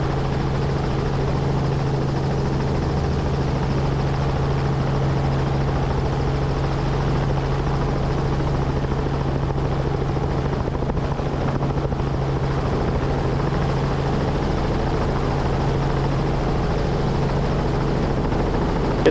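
A helicopter flies over NOLA Motorsports Park, its rotor and engine giving a steady, loud, close drone with a constant low hum throughout, heard from inside the cabin with no talking.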